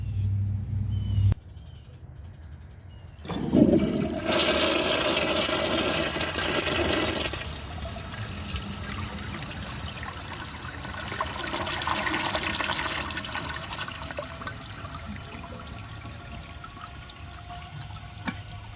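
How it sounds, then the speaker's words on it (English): A 1966 Crane Whirlton low-tank toilet with a Japanese Inax flush valve, a sharp lever clunk followed by a strong rushing flush that tapers into a long refill trickle, heard close and alone. "This toilet has an awesome flush."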